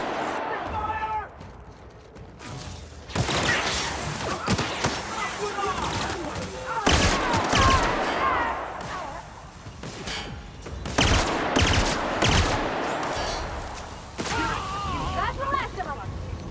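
Gunfire from a firefight in the video game The Outer Worlds, with repeated volleys of shots and heavy thumps coming in loud waves, mixed with voices talking and shouting in between.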